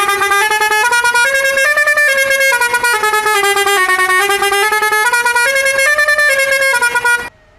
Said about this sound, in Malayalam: വേണമെങ്കിൽ ഒന്ന് ഹോൺ അടിക്കാം